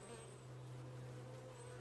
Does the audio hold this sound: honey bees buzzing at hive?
yes